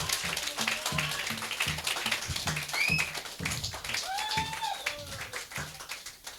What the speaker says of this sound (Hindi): जोर से ताली उसके लिए।